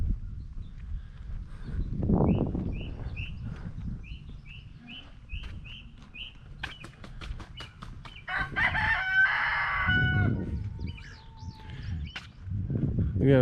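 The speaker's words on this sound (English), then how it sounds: "Still got chickens. See a big rooster?" Chickens at a farm cluck and a rooster crows amid background music and ambient noise, with a few rhythmic chirps and some muffled talk.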